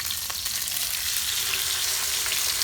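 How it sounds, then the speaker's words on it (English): A ribeye steak sizzles loudly and steadily in a hot pan while being basted with butter, garlic and fresh cracked black pepper, a dense continuous frying hiss with no voices. "we're going to start basting the steak."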